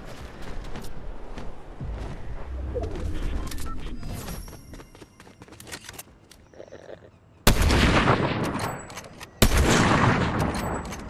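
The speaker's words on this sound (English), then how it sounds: "Oh, being shot from behind." Gunfire in the video game Fortnite: scattered shots, then two loud, dense bursts of rapid firing near the end.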